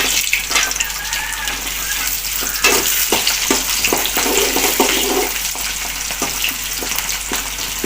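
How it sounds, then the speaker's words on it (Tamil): Garlic sautéing in a pan for a curry-leaf kuzhambu, giving a loud, continuous sizzle broken by scraping stirs close by, with no voices. "பூண்டை போட்டு வதக்கணும்"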